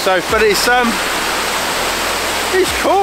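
Mountain waterfall in Snowdonia near Llanberis, a constant broadband rush of falling water filling the scene, with a person talking briefly over it at the start and end.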